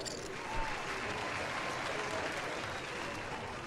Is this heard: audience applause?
yes